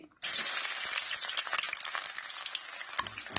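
Sliced onion hits hot, whitened oil in a pan and bursts into a loud, steady sizzle that continues close up, with faint stirring clatter near the end.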